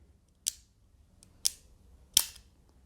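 Three sharp, crisp clicks from a Beyblade Burst Variable Dash part being turned and locked tightly, spaced about a second apart, close and fairly quiet against near silence.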